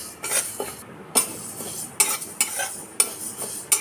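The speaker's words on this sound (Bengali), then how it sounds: "এবার সেটাকেও কিছুটা শুকনো কড়াইতে আমি ভেজে নেব।" Mung dal is dry-roasted in a wok with no oil and stirred briskly. Repeated scraping strokes and a light rattle of grains against the metal come in uneven bursts, close and fairly loud, with no talking.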